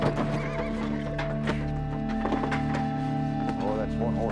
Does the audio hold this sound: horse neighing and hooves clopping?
yes